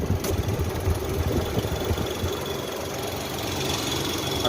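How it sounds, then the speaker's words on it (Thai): A faulty air-conditioning compressor runs in an idling Nissan Almera, giving a loud, rough, knocking drone over the engine's steady low idle throughout, with no talking. "แต่เสียงคอมนั้นดังนะครับ"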